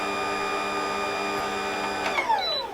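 A Ninja Foodi juicer runs while juicing apples, a steady high motor whine with strong tonal hum that shifts and drops near the end as the machine winds down, close and without talk.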